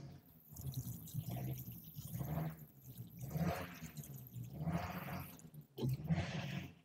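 Water poured from a can over a bonsai in several bursts, each a soft splashing gush lasting about a second, separated by short pauses, close and fairly quiet.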